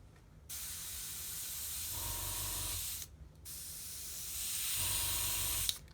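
Paint spray gun spraying thick polyurethane paint: a steady loud hiss in two long bursts, each pausing briefly, with a low mechanical rattle joining partway through each burst.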